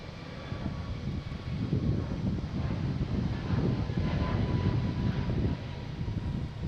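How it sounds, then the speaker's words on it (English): An Airbus A321neo jet airliner bound for Shannon gives a steady, broad engine roar at moderate distance, rumbling continuously with no voices over it. "heading to Shannon. A321 Neo, flight 134."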